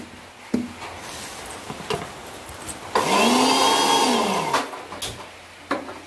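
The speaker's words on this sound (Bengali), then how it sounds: "আমি মিক্সচারের বাটিতে হচ্ছে লঙ্কা, আদা, রসুন আর জিরে আর কাশ্মীরি লঙ্কার গুঁড়ো দিয়ে দিয়েছি। এবার এটা আমি পেস্ট করে নেব" An electric mixer grinder blends green chillies, ginger, garlic, cumin and Kashmiri chilli powder into a paste, giving one loud whirring burst mid-clip that rises and falls, framed by light clatters and knocks.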